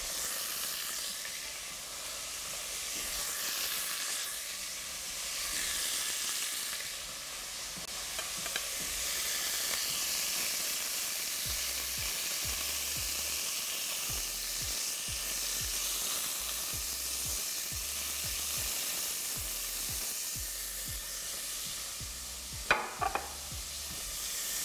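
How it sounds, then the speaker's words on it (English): Diced pancetta frying in a pan beside browning chicken pieces, a steady bright sizzle and hiss running throughout with occasional stirring scrapes and soft knocks. "And I'll cook this bacon now until it's nice and golden brown."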